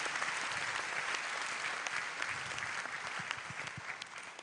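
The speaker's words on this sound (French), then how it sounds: "Applaudissez encore" An audience at a church gathering in Guinea applauds steadily, a dense wash of many hands clapping that holds for several seconds at a moderate, slightly distant level with no speech over it.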